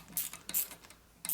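Ratchet wrench tightening a bolt on a Harley-Davidson Shovelhead engine during a motor rebuild, giving three short bursts of quick mechanical clicking separated by brief pauses, close and fairly quiet.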